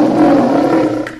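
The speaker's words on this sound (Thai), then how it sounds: "ราชสีรวมพลังเต็มที่ แล้วก็เปล่งเสียงฟ้าผ่าออกมาเป็นระลอกดังสะท้านไปทั่วบริเวณ" A lion roars at full power, a loud sustained rumbling bellow close by that rolls on without pause and tails off near the end, with no other sound.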